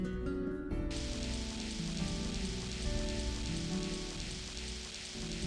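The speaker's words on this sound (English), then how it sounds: "There's that rain sound," Steady rain patters across a surface as the video game The Blackwell Convergence loads, with a soft musical drone and low tones sounding alongside the constant hiss.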